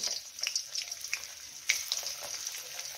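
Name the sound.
ginger and garlic frying in hot oil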